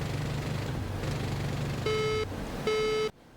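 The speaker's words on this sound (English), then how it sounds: "It is a very obnoxious beeping" A MiG-29A Fulcrum cockpit warning tone in the DCS flight simulator sounds as two sustained electronic beeps, each lasting under half a second, clear and steady over a low engine drone that cuts off abruptly.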